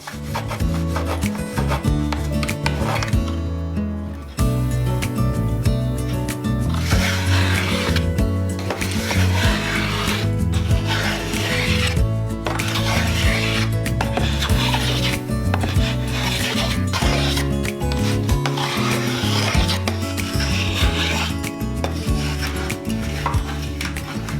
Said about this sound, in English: I used a combination of my bench plane and thumb plane to bring the sides down